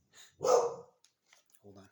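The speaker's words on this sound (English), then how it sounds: "My dog saw the neighbor's dog." A dog barks once, loud and close, set between short bits of a man's speech, with a few faint sounds after it.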